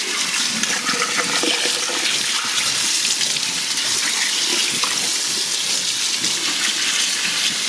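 Tap water runs hard and steady into a sink while a turkey of about 14.8 pounds is rinsed, a loud continuous hissing gush close by with no speech.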